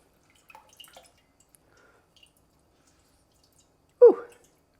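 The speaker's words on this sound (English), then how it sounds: "I wanna get my lemon squeezer because I find it so much better" A lemon squeezer presses lemon juice into a jug, giving a single short liquid squirt and splash after a few faint handling clicks in an otherwise quiet room.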